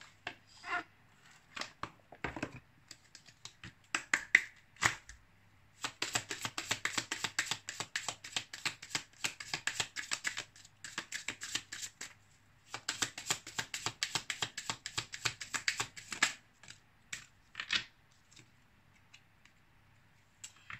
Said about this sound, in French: On va prendre une carte des petites prières aux anges pour faire le plein d'amour.